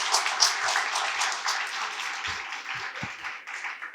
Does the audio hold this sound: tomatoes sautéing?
no